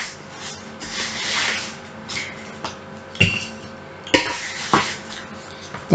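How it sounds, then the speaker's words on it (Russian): Spatulas lift roasted potatoes from a baking tray onto a plate, giving soft scraping shuffles and a few sharp clinks and knocks of metal against tray and dish, close by with no talk. "Я сейчас буду картофель перезагружать из противня на тарелку."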